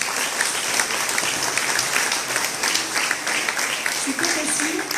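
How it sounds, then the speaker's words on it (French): Applause from an audience at a public meeting in a hall, continuous and fairly loud, with a few voices briefly audible beneath the clapping near the end. "Donc, Éric, on peut l'applaudir"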